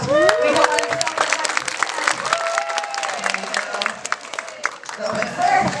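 Audience at a sea lion show clapping and cheering loudly and steadily, with shouts and whistles over dense applause and some voices mixed in throughout.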